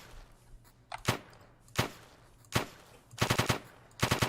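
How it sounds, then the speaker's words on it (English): Machine gun fire in the top-down zombie shooter Field Survivor, starting as loud single shots and moving into short rapid bursts, with no talking. "Now we got a machine gun."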